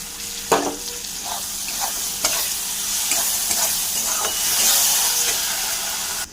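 Masala with chili sauce and tomato sauce sautéed in a pan, an even close sizzle with several sharp spoon knocks and scrapes against the pan, no one speaking.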